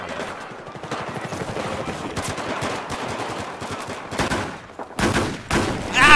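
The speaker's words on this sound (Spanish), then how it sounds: "Están disparando." Battlefield 4 gunfire on the Metro map in a pistols-and-knife match, rapid dense shots rattling continuously beneath Spanish-speaking voices, with a louder burst near the end.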